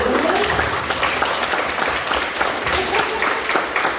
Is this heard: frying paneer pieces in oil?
no